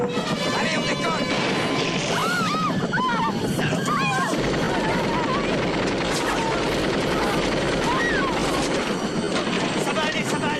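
A helicopter lifting off during a tense action-film rescue, its loud continuous rotor and engine roar filling the scene alongside crashing impacts while voices shout over it.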